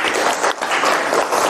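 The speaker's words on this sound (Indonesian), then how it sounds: "Tepuk tangan untuk kita semua" Applause from a lecture audience at the close of a university class on curriculum, a dense, steady wash of many hands clapping throughout, fairly loud and close, with no talk over it.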